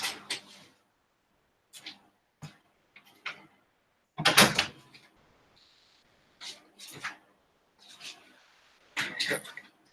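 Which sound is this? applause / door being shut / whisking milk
door being shut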